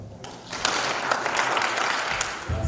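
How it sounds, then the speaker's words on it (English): Audience at a theological seminary graduation ceremony breaks into clapping after a short quiet start, a brief dense burst of many hands that holds steady to the end. "Can we clap?"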